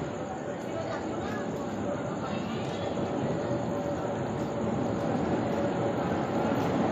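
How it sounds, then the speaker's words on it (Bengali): A train rolls into a station on a Rajasthan to Sealdah journey with a steady low rumble that grows slightly louder, under a murmur of crowd chatter. "এই তো আমাদের ট্রেন এসে গেছে।"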